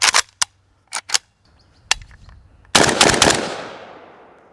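A PSA 300 Blackout Krink with its factory booster fires full-power reloaded ammunition unsuppressed: several sharp, loud gunshots go off in a quick irregular string, followed by a final blast that rolls off in a long fading echo.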